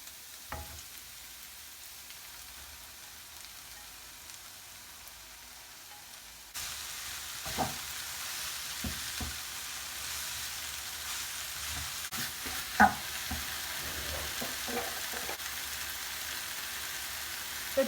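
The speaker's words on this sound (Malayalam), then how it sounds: "ഞാൻ വെജിറ്റബിൾ ഏകദേശം 3 to 4 മിനിറ്റ്സ് നന്നായിട്ട് ഇളക്കിയെടുത്തു." Spinach and mixed vegetables are stir-fried in a pan for egg and spinach fried rice, a soft sizzle that grows louder partway through, broken by scattered clinks and scrapes of stirring.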